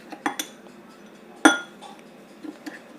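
Boiled potatoes for smashed potatoes being mixed in a dish: a few sharp clinks of a utensil striking the dish, then softer scraping and light taps with quiet pauses between.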